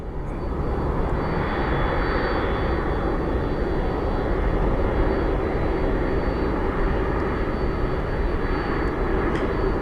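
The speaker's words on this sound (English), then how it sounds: "these are typically some of the large planes we get here at Sky Harbor" A large passenger plane at Sky Harbor airport in Phoenix roars with a loud, steady engine rumble that holds constant for about ten seconds, with no voices.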